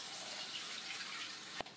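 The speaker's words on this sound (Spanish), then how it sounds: "voy a echarle más agua fría." Cold tap water runs steadily into a container for marinated garlic in a home kitchen, a continuous close hiss of flowing water ending in a brief knock near the end.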